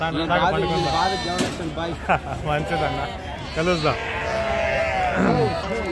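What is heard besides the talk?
sheep bleating at Gudur sheep market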